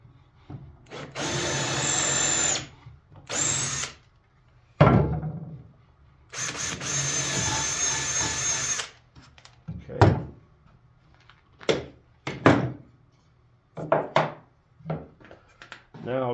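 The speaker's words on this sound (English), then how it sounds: "This is pre-drilled, remember," Power drill running through pre-drilled holes in cedar wood while building a porch swing, in several close bursts of a few seconds each separated by knocks and handling noises.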